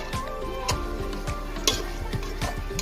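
Fried rice ingredients being stirred in a pan, with quick rhythmic scrapes and clinks of the utensil repeating about every third of a second over a soft sizzle and a low hum.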